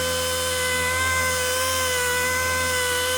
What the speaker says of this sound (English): I'm going to move the polisher around a little bit quicker